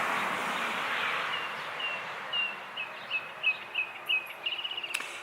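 A mockingbird singing and mimicking other birds, a series of repeated chirping phrases at moderate distance over a hissing backdrop of insects.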